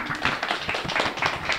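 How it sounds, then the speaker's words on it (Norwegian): An audience at a 2016 summer art exhibition on Andøya claps, a short burst of dense, lively applause from a modest crowd close by. "Da klapper vi igjen."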